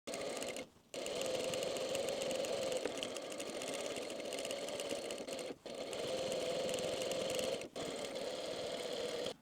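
A sewing machine stitches fabric pieces together in long continuous runs of steady whirring, broken by three brief stops, close and fairly loud.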